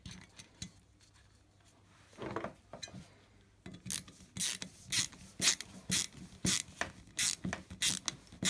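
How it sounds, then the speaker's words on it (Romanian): Four screws on the cylinder cover of a Stihl MS 170 chainsaw are tightened with a ratchet. After a quiet start, close, rhythmic bursts of ratchet clicking repeat steadily, with brief pauses between them. "o să fixăm capacul de cilindru cu cele patru șuruburi"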